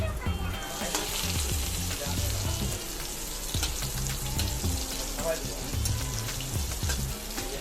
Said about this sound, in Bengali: করলা ভাজা আর কাঁকরোল ভাজা করছি